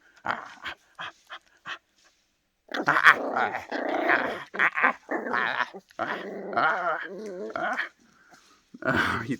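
A feisty young puppy growls and pants in long, rumbling bursts up close, with short snorts and whimpers between, playful and continuous across the moment.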